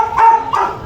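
A dog barks twice in quick succession, fairly close, in an outdoor cooking setting where boiled pork for sisig is about to be grilled.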